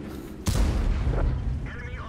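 A tank cannon fires a shell in World of Tanks, one sudden loud boom followed by a rumbling decay with faint game sounds after.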